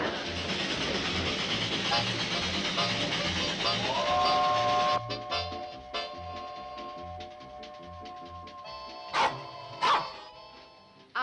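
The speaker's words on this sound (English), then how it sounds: "Train's coming." A train rumbles steadily with rhythmic clatter, then a long horn tone sounds and a few sharp clanks ring out near the end.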